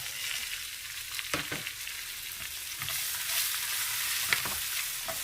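Chopped garlic and green chillies fry in oil for lemon pickle, giving a steady, close crackling sizzle broken by a few sharp spatters and stirring scrapes.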